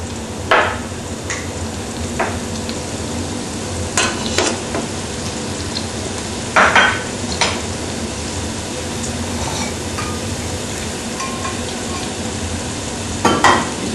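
Butter melting and sizzling as it is stirred into a pan of duck breast with honey and morello cherries, a steady soft frying hiss under occasional scraping stirs and clinks, with no talk.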